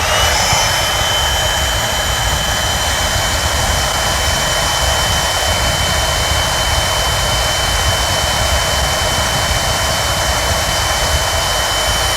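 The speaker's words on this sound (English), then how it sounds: "So we've just got a standard 18 volt blower" A standard 18-volt cordless blower forces air into a transportable grain silo during fumigation, giving a loud, steady roaring whoosh that holds without a break from start to finish.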